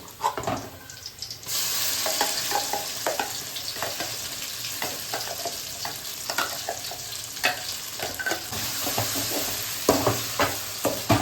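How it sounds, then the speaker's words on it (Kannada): Prepared masala frying in a pan during home cooking: a dense, loud, steady sizzle begins after a brief quieter moment and carries on throughout, with scraping stirring strokes and occasional clinks over it. "ಸ್ವಲ್ಪ ಫ್ರೈ ಆಗಲಿ"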